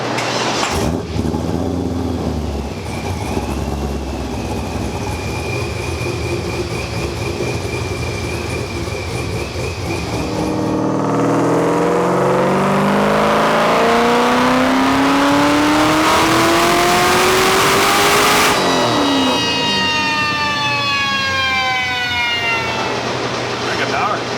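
Base-model Corvette launching hard, engine revving loud and close with a rising, sweeping pitch as it pulls away, repeated shifts audible near the end.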